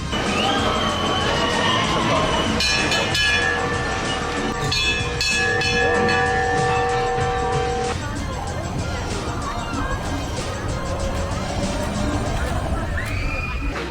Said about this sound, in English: I'm waiting to board the runaway mine train